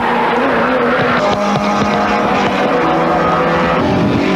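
Holden Torana A9X race cars roar around the Bathurst circuit in 1979, engines loud and close, revving and shifting through gears as several cars pass in a continuous blare.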